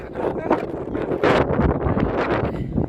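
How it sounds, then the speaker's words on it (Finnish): Strong wind buffets and rumbles in gusts close to the microphone beside the Aura River while a person talks over it. "niin hirveä tuuli"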